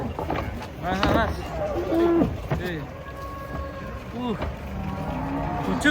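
Large, unusually colored cattle are unloaded from a truck, lowing in deep, drawn-out moos over shuffling and knocking sounds. People talk nearby throughout.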